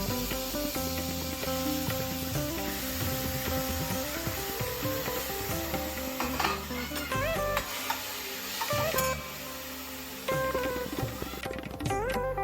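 Grated apple sizzles in hot ghee for payasam, a continuous close frying hiss with stirring scrapes, heard under steady background music.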